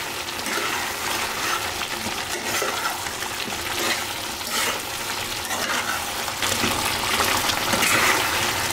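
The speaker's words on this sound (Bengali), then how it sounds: "এইভাবে কষায় কষায় ভুনা করে নেব মাংসটাকে" Meat fries and sizzles steadily in a pan while being stirred for a Bengali bhuna, a dense continuous crackle close by with no talk.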